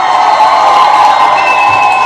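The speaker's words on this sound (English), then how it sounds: "I want to give you all a round of applause" Loud round of applause and cheering from a crowd, with whoops and high shouts layered over steady clapping throughout a short burst.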